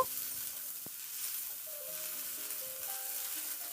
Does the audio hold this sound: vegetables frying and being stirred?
yes